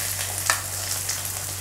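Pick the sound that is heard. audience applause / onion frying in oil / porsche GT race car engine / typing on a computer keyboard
onion frying in oil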